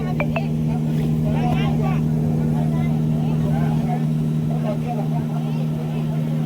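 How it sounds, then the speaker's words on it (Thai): A departing tour motorboat's engine drones steadily at close range with a constant low hum on a trip to the Emerald Cave in Trang, Thailand, while people talk over it throughout. "เรือออกแล้วนะครับ"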